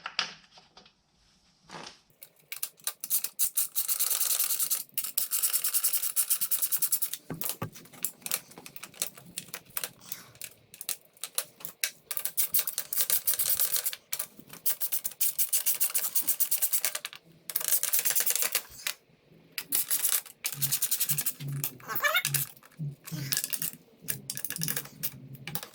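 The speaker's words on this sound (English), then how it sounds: "We're gonna line our fan up, throw our screws in there, our four 10 millimeters." Four 10 mm screws are driven into a Can-Am Ryker radiator fan in rapid bursts of sharp mechanical clicking, close and crisp, starting and stopping repeatedly over about twenty-five seconds.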